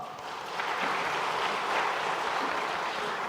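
A church congregation at a Sunday worship service breaks into warm, sustained applause, a dense, steady clatter of many hands that swells slightly and holds for several seconds without speech.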